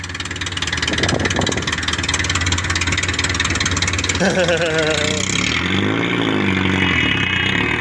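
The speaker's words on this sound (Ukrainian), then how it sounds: "Жигулі п'ятої моделі, но деренчить як трактор." The engine of an old Lada Zhiguli (VAZ-2105) rattles like a tractor and drones steadily throughout, with a voice speaking over it and a shift in engine tone partway through.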